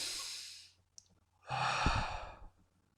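A voice imitates the laboured breathing of a dying person, a long rasping exhale followed after a pause by a second heavy, strained breath.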